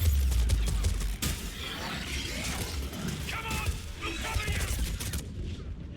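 Gunfire in Mass Effect 3, a sharp loud shot near the start followed by clattering combat noise and rattling bursts, with a person talking over the action.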